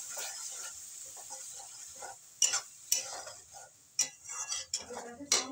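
Tomato paste frying in a pan for carp fish kalia, with a steady close hiss of sizzling broken by repeated scraping, clinking strokes of a spatula as it is stirred.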